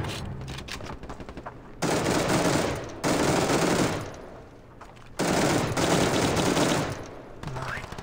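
Automatic gunfire from the mobile shooter Standoff 2 in gun game mode comes in long, dense bursts separated by short pauses, loud and close, with a player talking now and then.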